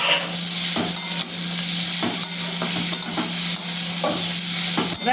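Vegetables seasoned with salt and turmeric fry in a pan with a steady sizzle, while a spoon scrapes and stirs in repeated strokes close by.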